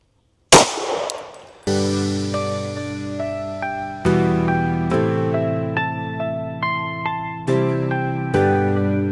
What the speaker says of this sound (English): We'll take a shot.